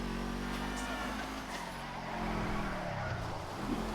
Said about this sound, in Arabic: كمان صوت التربو انت سامع؟ اسمع.